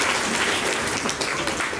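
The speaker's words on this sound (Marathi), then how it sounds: "जोरदार टाळ्या वाजवून त्यांचं या ठिकाणी अभिनंदन करूया." Loud, dense applause from a crowd at a Bharatiya Janata Party Scheduled Caste Morcha rally in Panvel taluka, a steady wash of clapping with no pauses.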